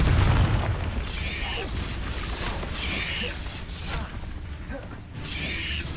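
Confringo blasting curse explosions in Hogwarts Legacy, with booming bursts and rattling magical effects recurring every second or so over a dense, continuous game soundscape.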